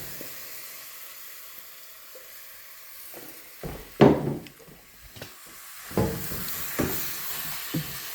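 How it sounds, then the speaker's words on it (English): Blueberry mixture cooking in a saucepan: a soft, steady sizzle and hiss with occasional louder bubbling pops and stirring scrapes, close and fairly quiet, with no talking. "I'm gonna cook my blueberries."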